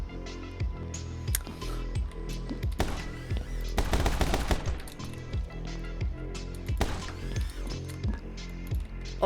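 Gunfire rings out in the video game My Friend Pedro: rapid, repeated shots stacked into bursts, including a dense volley in the middle, with an electronic soundtrack underneath.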